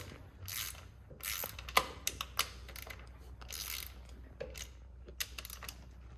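Clutch cover bolts on a 2023 Yamaha YZ250F are tightened with a ratchet: quiet bursts of fast ratcheting clicks, close by, broken by short pauses and a few sharper metallic taps.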